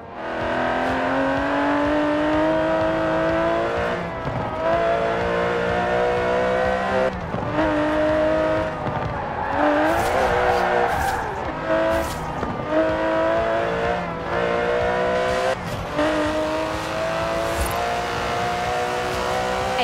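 An Aston Martin DB11 with a 5.2-litre twin-turbo V12 in Forza Horizon 4 revs hard and accelerates through repeated upshifts, each climbing engine note dropping briefly at the gear change. It is loud, close and continuous, with no talk.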